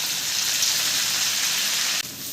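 Dried manathakkali berries and vadagam fry in hot oil with a dense, steady sizzle, loud and close, briefly dipping near the end.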